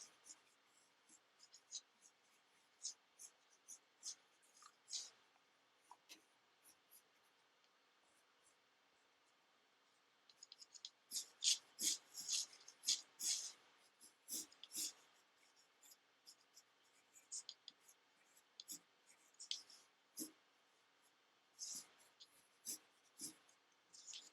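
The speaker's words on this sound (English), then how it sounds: "I'm going to do a little drawing of Skits right here" Pen drawing on paper, close and quiet scratchy strokes in short bursts, sparse at first and then a denser flurry of quick marks midway, with pauses between strokes.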